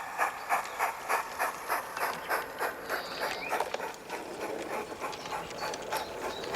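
A steam train on the Peckforton Light Railway model layout pulls away, giving rhythmic chuffs that come steadily at first, then a brief hiss and whistle-like tone before the puffing continues more softly.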